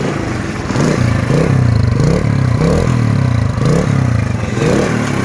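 A modified Walton 80cc motorcycle in classic style kicks over and catches, its small engine chugging in uneven bursts with mechanical clatter, close and loud.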